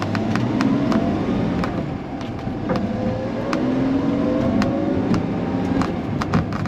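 A car engine pulls steadily under load from inside the cabin, with a continuous drone that shifts in pitch as the car accelerates and changes gear, plus faint clicks and interior rattles.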